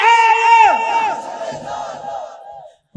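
A large crowd at a Bangla waz sermon shouts the takbir response in unison, one loud sustained chant of many voices that swells, then fades and trails off before cutting out.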